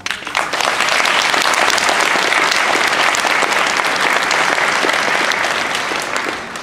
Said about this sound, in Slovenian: potem si zaslužijo en velik aplavz vsi skupaj